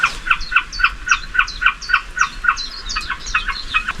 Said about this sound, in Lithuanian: Čia radom tokį stendą su paukščiais ir jų skleidžiamais garsais.